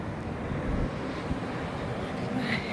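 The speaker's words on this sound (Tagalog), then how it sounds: "Medyo mahangin ngayon" Steady low buffeting of wind on a microphone, a constant rumbling roar with occasional gusts and no voices.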